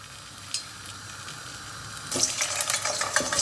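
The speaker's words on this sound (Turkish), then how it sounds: "Yemeğimizin önce patateslerini kızartıyorum ki sonra yağ bozulmadan temiz bir patates çıksın ortaya." Steady soft sizzling of potatoes frying in hot oil, growing louder and crackling more intensely partway through, close up.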